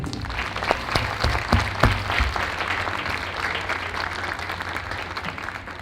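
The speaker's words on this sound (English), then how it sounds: "I think they deserve a round of applause" An audience at a girls' high school valedictory assembly breaks into a round of applause, dense clapping filling the hall with a few sharper claps standing out early, then settling into a steady wash.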